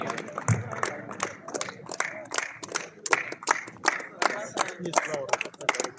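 Clapping from a gathered crowd at a formal event, with spoken voices running alongside the uneven applause.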